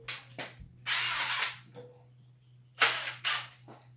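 A 12V DeWalt and an 18V Makita subcompact impact driver run in short bursts, with sharp rattling impacts starting and stopping several times in a quiet room.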